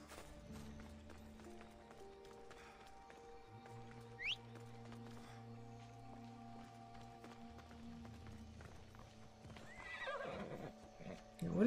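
A horse in Assassin's Creed Odyssey gives a sharp whinny, followed by galloping hooves that grow louder near the end, set over a faint game ambience with occasional quiet speech.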